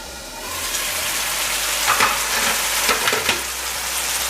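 Squash and oil roti fry in a covered pan with a continuous bright sizzle and a few soft bumps or stirring sounds, close and steady, with no speech.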